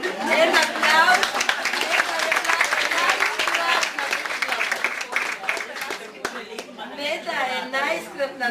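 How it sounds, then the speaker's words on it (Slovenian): Audience applause at a volunteer celebration and jubilee gathering in Sežana, a sustained burst of many hands clapping with some crowd chatter and laughter mixed in, thinning toward the end. "En aplavz."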